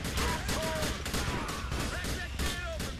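Rapid gunfire bursts crackle in Grand Theft Auto IV, dense and continuous, layered with whistling game effects and low rumble.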